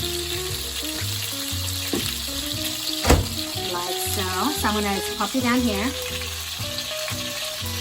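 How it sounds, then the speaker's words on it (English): Lamb chops sizzle and crackle steadily in a hot pan, with a sharp clatter partway through as a person talks over the frying. "As you can hear, my lamb chops are still sizzling away."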